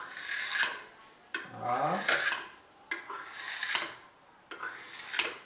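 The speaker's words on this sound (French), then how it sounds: "je le coupe en carré comme ça" A knife cuts through a semolina cake into squares, giving several separate scraping and tapping strokes at close range, each followed by a short pause, with a brief spoken word.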